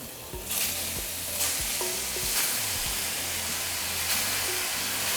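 Ground beef sizzling in hot oil with onion in a pan, a steady close frying hiss with occasional stirring clatter throughout.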